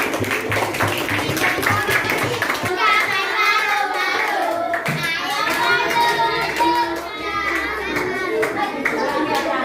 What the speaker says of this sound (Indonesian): Tepuk tangan untuk lagunya.